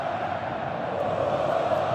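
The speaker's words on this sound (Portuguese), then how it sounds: "A torcida campeã, empolgada" A crowd of more than 45,000 Corinthians fans roars in the stadium during a Brasileirão match against São Paulo, a loud, steady wash of chanting and cheering with no voice above it.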